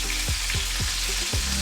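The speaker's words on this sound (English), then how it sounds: "you're going to remove your chicken thighs from the frying pan" Chicken thighs sizzle loudly in a frying pan while being cooked for chicken cacciatore, a dense steady crackle with a few rhythmic scraping strokes and no voices.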